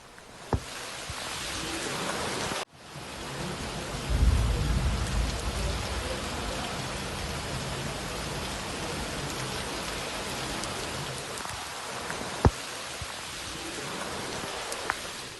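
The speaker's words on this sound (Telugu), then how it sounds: "హైదరాబాద్ లో కూడా వర్షం దంచు కొడుతోంది" Heavy rain falls steadily in a thunderstorm over Hyderabad, a broad continuous hiss with a deep rumble of thunder swelling midway, a few sharp drip taps, and a brief cut early on.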